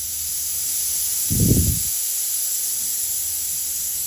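Air bleeding from the plenum of an FX Impact M4 air rifle regulator, one short close burst of hiss lasting about half a second over a steady faint background hum.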